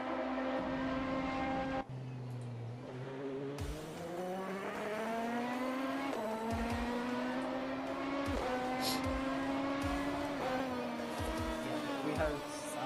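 Loud, continuous high-revving LMP2 race car engines in a racing video game whine and shift pitch as cars pass, with brief lulls and tire noise, no talking.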